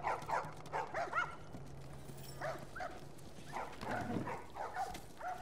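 Dog in The Last of Us Part 1, giving short yips and barks in quick clusters, moderately close and fairly quiet, with faint background hum and soft ambient movement between the calls.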